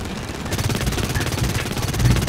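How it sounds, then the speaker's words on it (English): Burst-fire SMG shots in the online shooter Blacklight Retribution, a loud continuous stream of rapid gunfire rattling throughout, with no pauses or voices. "He has a burst fire SMG. It may sound like an AK."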